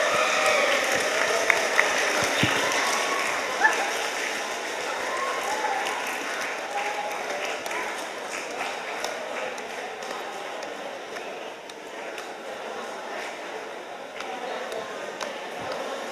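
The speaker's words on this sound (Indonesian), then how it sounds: "Beri tepuk tangan yang meriah." An audience at a school Heroes' Day session applauding, a sustained dense clapping that holds steady for the whole stretch with a few louder claps early on, with some voices mixed in.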